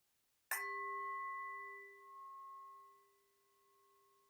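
A single meditation bell struck once, ringing out clearly and then slowly fading over several seconds with a steady, pure sustained tone.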